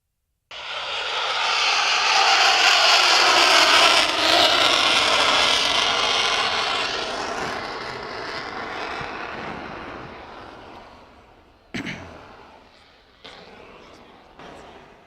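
F-35C fighter jet flying a carrier break wave-off at a Fort Lauderdale air show: a loud, roaring jet pass that swells and then slowly fades as the aircraft moves off, followed by a few faint bumps and handling noises.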